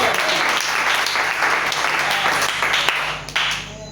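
A church congregation claps and applauds loudly and steadily, a dense wash of many hands close around, with some voices mixed in.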